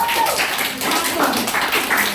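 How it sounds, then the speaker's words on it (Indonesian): A classroom of junior high science students claps for a group that has finished its task, dense steady clapping from many hands filling the short moment at close range. "tepuk tangan dulu untuk kelompok"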